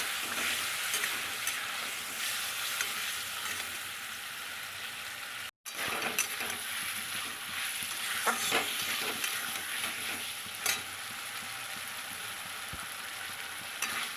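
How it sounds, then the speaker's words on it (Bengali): Spice paste and potatoes stir-fried in a pan for a cauliflower and koi fish curry, giving a loud continuous sizzle and hiss with occasional scraping stirs. One very brief gap interrupts the sound partway through. "এবার এই মশলা কষানোর সঙ্গে সঙ্গে আমি আলুটাও দিয়ে দিচ্ছি"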